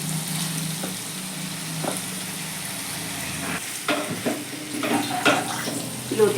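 Boiled taro stolons go into a pan of frying prawns with onion and spices, giving a soft wet sizzle and scattered stirring clatter that grows busier toward the end.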